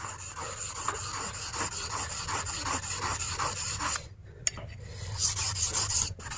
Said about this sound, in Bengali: সেই পালিশ পিঠে আমরা প্রথমে ঘষে নেব ঠিক আছে এইভাবে জল দিয়ে ঘষে নেব